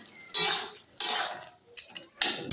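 A spoon scrapes through prawn curry in a metal pan in four firm, close strokes with short pauses between, each a bright metallic rasp.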